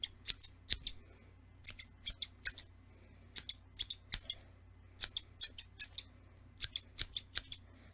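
Quick, crisp snips of thinning scissors in short bursts of two to four cuts, close by and clear against a quiet background.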